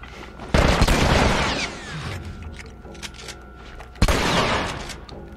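Loud shotgun blasts from gameplay in The Last of Us, two heavy booming shots a few seconds apart, each followed by a long rumbling tail and rattling clatter beneath.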